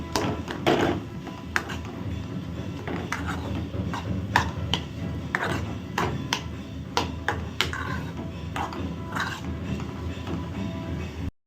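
Potato masala being mashed in a pan on a stove over low heat, heard as a steady run of close, sharp taps and knocks of the utensil against the pan, with no talking.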